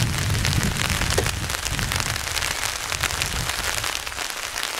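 Steady rain falls continuously at a campsite behind Pranburi Dam, a dense hiss of drops on surfaces, fairly close and unbroken throughout, with no wind.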